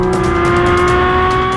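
Porsche 718 Cayman GT4 RS flat-six engine singing at high, steady revs, a loud sustained tonal howl that stays close and continuous without any speech.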